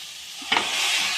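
Chicken drops into a pan of onions and tomatoes for Karaikudi chicken varuval, setting off a sudden thud and then a louder, steady sizzle close by.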